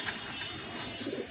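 A homing pigeon coos softly close by, a short, low, murmuring call with a faint chirp, alone and quiet.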